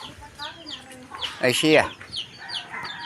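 Farmyard chickens cluck close by in a short, busy burst of calls, and a person speaks briefly over them.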